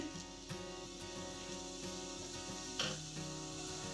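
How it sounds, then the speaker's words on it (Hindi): Cumin seeds sizzling in hot oil in a kadhai, a continuous bright crackling hiss with scattered pops, close and steady throughout, no voices. "मिर्ची के टिपोरे बनाने के लिए कढ़ाई में ऑयल को गर्म कर लिया है। अब इसमें जीरा डाल देंगे"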